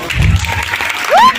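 Audience clapping at a star night stage show in an auditorium, a steady broadband patter of many hands through the short stretch, growing fuller near the end, with a rising tone and some voice mixed in.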